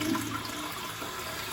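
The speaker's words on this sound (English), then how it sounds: "This toilet flush is exciting." A toilet flushing aboard the Queen Mary ship, a tight lever-operated mechanism, gives a steady rushing wash of water that continues evenly throughout at moderate volume.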